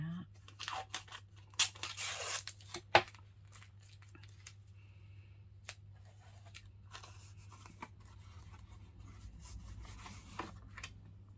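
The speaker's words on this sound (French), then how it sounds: "je vais de manière aléatoire prendre des morceaux de masking tape que je déchire" Masking tape torn by hand into random pieces, with a few dry ripping bursts early on, then quieter rubbing and crinkling as pieces are pressed down, over a steady low hum with a voice speaking throughout.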